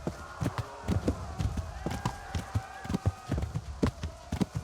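Horse hooves clip-clop steadily while riding in Kingdom Come Deliverance, a quick regular rhythm of close, sharp hoofbeats with a voice talking over them.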